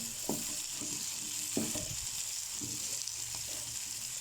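Curry leaves fry in hot oil for an okra dish, giving a steady, close hiss of sizzling broken by intermittent clinks and scrapes of stirring.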